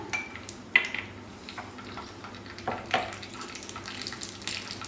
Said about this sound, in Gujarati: જીરાને થોડું તતરી જવા દઈશું.